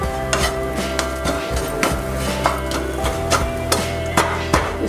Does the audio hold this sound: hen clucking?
no